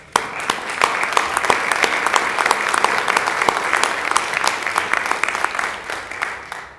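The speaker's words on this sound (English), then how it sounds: "He deserves a round of applause for that" A room of attendees at a city board of mayor and aldermen meeting breaks into applause, distinct individual claps building quickly into a steady round that holds, then thins out near the end.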